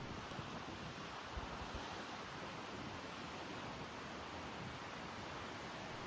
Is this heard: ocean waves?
yes